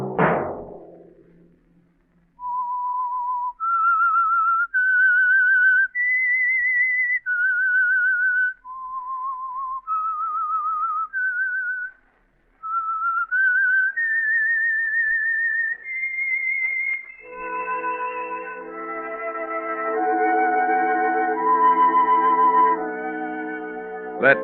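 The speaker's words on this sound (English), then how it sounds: "Let that whistle be your signal for the Signal Oil program, The Whistler" A whistled eerie theme melody of a 1948 radio mystery drama: a single clear whistle of sustained notes rising and falling, alone and close, ending under a swelling orchestral chord.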